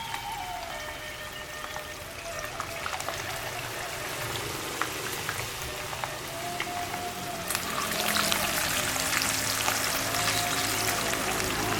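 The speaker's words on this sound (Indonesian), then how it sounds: "Setelah panas, lalu masukkan ikannya yang sudah dilumuri dengan adonan sala." Hot oil sizzles and crackles steadily, swelling louder partway through as batter-coated fish is added to the pan.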